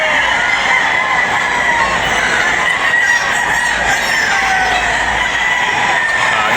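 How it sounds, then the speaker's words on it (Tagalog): Rooster at the 8th Cebu National Expo 2025 gamefarm show crowing loudly and steadily against a dense, noisy crowd backdrop, the crowing riding over constant bustle throughout. "Guwapong manok ni Boss Winnie."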